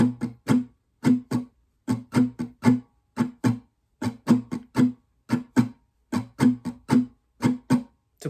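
Acoustic guitar strummed in a repeating pattern, close and clear: quick bunched strokes in steady rhythmic groups separated by brief gaps, with no voice.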